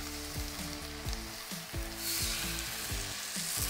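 Beef, broccoli and carrots sizzle steadily in a stir fry pan over gas, with a dense frying hiss and repeated scraping knocks as the food is tossed and stirred, no voices.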